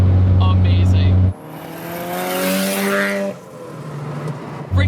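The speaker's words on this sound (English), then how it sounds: "Freaking wastegate sounds good. The turbo sounds good." Turbocharged KA engine in a Nissan S13 240SX making 700 hp through a BorgWarner turbo revs up loudly up close, holding a strong harmonic drone for a couple of seconds before dropping back to a low idle rumble.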